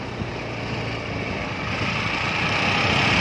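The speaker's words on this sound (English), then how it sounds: "Riding a bike with me." A scooter engine drones steadily while riding, a continuous motor hum mixed with wind rush that grows slightly louder toward the end, with no talking.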